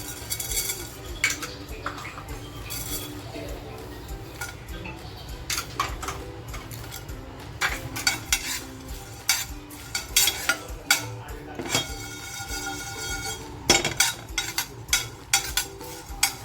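Whole cinnamon, green cardamom and cloves are lightly fried and stirred in a pan for a village-style mutton curry, producing repeated clicks and scrapes of a spoon against metal over a low, steady background, with no talk.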